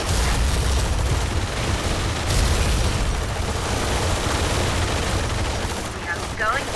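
Gunships open fire in the real-time strategy game Tom Clancy's EndWar, a dense continuous barrage of gunfire and booming explosions rolling steadily throughout, with a faint voice over the battle.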